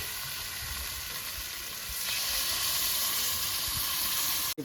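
Fried goat meat sizzles steadily in a hot wok, then water is poured in and the hiss swells louder and denser about halfway through, running on without any talk.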